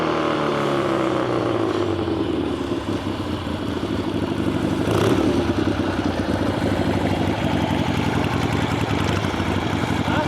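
A motorcycle engine runs steadily and loudly up close for the whole stretch, a dense continuous drone with a slight swell midway and no break.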